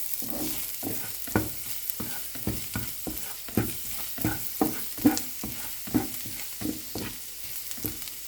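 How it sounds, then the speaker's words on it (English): Garlic sautés in a pan for Chinese fried rice, a soft continuous sizzle punctuated by a regular series of spatula scrapes and taps, about two per second, close and without talking. "In same pan, let's saute the garlic."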